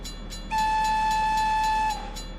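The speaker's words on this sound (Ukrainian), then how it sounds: "Так, локомотив вже тут. вже ось так красиво він їде." Locomotive hauling passenger cars past a level crossing, a steady horn blast of about a second and a half rising over a constant rumble of moving rail traffic, close and fairly loud.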